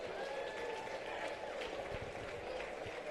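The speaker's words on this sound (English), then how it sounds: "Let's give one more round of applause." Steady applause from the audience at a live combat-sports event in a casino, a continuous wash of clapping at moderate volume with no clear voices on top.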